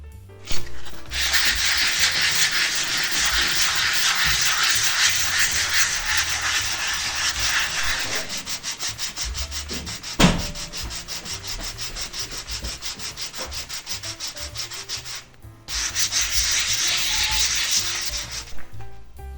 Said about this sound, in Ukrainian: Надалі шліфуємось до наступного зерна.